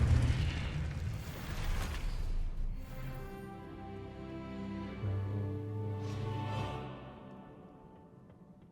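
Confringo spell explosion in the Hogwarts Legacy video game, opening with a loud deep boom and crackling burst that fades into a rumbling tail under sustained tonal game music.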